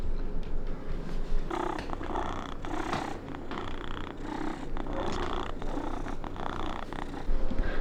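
A domestic cat purrs close up in a continuous low rumbling rhythm, each breath cycle audible as rising and falling pulses, with no talking over it.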